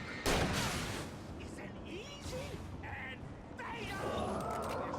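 Shotgun blasts in the video game Alan Wake, a sharp loud shot near the start followed by a few more bursts of gunfire, with a player talking over the action.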